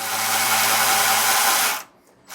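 A power tool whirs loudly and steadily for almost two seconds while tightening a factory bolt and nut on the front suspension of a 2019 Holiday Rambler Admiral RV, then cuts off abruptly into near silence.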